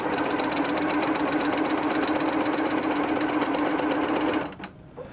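Sewing machine quilting a seam on fat quarter fabric, a close, steady, fast whirring stitch run that continues unbroken for several seconds and then stops abruptly, leaving quiet room tone.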